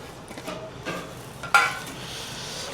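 Spoon stirring dum chicken masala with fried onions in a pot, a few soft scraping strokes and faint sizzle, one sharper metallic clink near the end.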